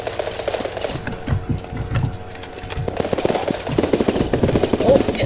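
Gunfire in the video game Running With Rifles: rapid automatic bursts and scattered shots crackle for several seconds, fairly loud and close, with no talking.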